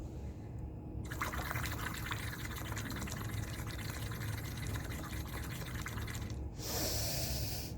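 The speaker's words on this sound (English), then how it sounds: "take some water in a glass with straw. First, make bubbles" Someone blows through a straw into a glass of water, producing a sustained, close bubbling gurgle for several seconds, starting and stopping abruptly with quiet breathing around it.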